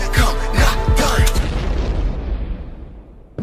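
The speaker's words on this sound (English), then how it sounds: "Put some explosions in there." An explosion sound effect plays during a live stream, a loud booming blast with several quick bursts that fades into a long rumbling decay.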